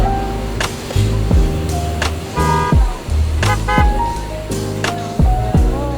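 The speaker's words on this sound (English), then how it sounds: "There's lots of traffic, and these jeepneys are so loud." Heavy road traffic in Manila, with loud jeepneys roaring close by, engines droning and revving, punctuated by repeated horn toots and sharp clattering hits throughout.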